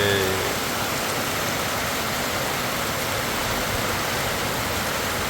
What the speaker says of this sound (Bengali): এখন যে পরিমাণ বৃষ্টি হচ্ছে সেটা অবশ্য আপনারা টিনের শব্দে আসলে হান্তাস করতে পারতেছেন